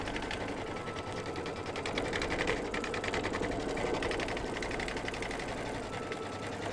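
An embroidery machine stitches down the edges of an appliqué fabric tree on a mug rug, a steady, fast mechanical whir with dense rapid needle ticks running continuously and fairly loud throughout.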